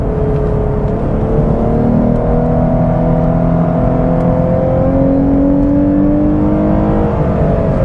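A 2021 Lexus IS 350 F Sport engine hums loud and steady with a whining transmission tone that rises and falls as the revs change, continuous throughout with no talking.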